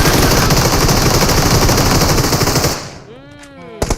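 Loud, rapid automatic gunfire from a PUBG Mobile match rattles continuously for almost three seconds, then cuts off abruptly, leaving faint chirping game tones and a short burst of shots at the end.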